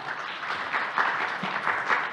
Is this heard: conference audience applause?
yes